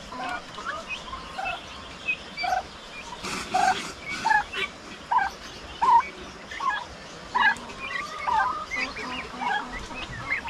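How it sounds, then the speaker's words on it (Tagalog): Turkeys and turkey chicks in a pen give repeated gobbling and clucking calls in short bursts, close and moderately loud. "Tapos may mga pabo tayo dito."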